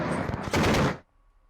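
A dense burst of rapid automatic gunfire for about a second, loud and close, then cutting off abruptly into near silence.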